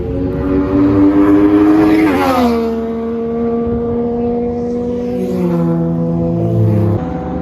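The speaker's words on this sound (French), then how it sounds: "ce que je viens de vous filmer c'était des légendes cars. D'ailleurs il y a une autre qui arrive." Legends racing cars pass on a circuit during a track practice day, the loud engine drone sliding down in pitch as one car goes by, then another engine tone building as a further car approaches.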